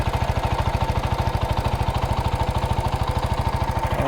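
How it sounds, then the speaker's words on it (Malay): A 2022 Zontes ZT155U motorcycle engine idling up close, a steady, loud, evenly pulsing putter with a fast regular beat and no speech over it. "jadi macam ni lah bunyi dia bila dalam keadaan idle"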